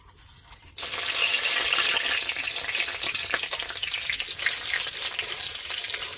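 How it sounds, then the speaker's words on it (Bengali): Cinnamon, cloves, bay leaves and dried chillies hit hot mustard oil with a sudden loud sizzle that continues as a steady crackling fry. "এবার তেলের মধ্যে দিয়ে দেবো দারচিনি লবঙ্গ তেজপাতা আর দুটো শুকনো লঙ্কা"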